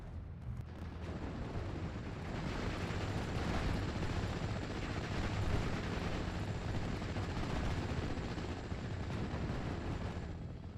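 A tank buster aircraft's attack run in the WWII strategy game Steel Division 44: a dense, continuous roar of explosive rumble and battle noise, loud and steady for about ten seconds, with no voices.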